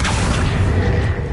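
A Confringo blasting spell from Hogwarts Legacy goes off as a loud, deep boom with a rumbling, crackling tail that holds steady through the whole moment, with no voices.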